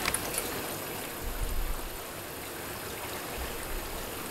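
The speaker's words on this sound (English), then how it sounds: "in a second or two the water will stop coming into the machine" Water rushes into a Bosch-group dishwasher as it fills, a steady, soft hiss and trickle that continues evenly throughout with a few faint low thumps and no talking.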